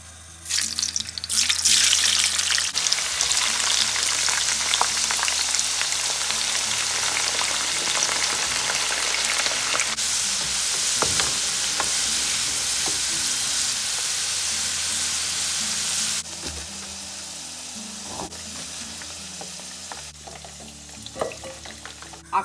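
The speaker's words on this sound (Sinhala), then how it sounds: "ඒත් එක්කම අපේ මේ අල ටිකත් බැදගමු." Potatoes frying in a pan on a home stove, a loud, dense sizzle that runs continuously, eases slightly partway through and is heard alone without talk.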